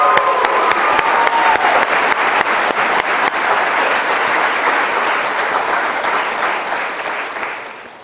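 A crowd applauds loudly and steadily at a graduation ceremony, the clapping slowly fading toward the end, with a brief voice faintly audible at the start.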